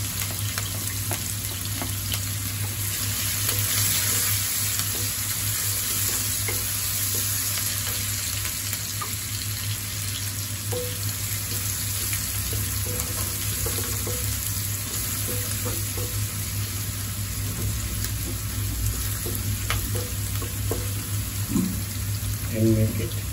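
Garlic, ginger and green chili fry together in a hot pan for a Indian methi paneer dish, a constant close hiss and sizzle with occasional stirring clicks throughout.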